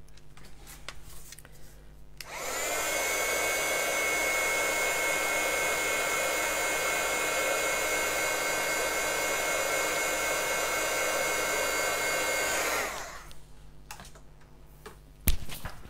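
A heat tool runs steadily for about ten seconds while drying Brushos scrapbooking ink, a loud even whooshing hum that starts and stops abruptly against a quiet room.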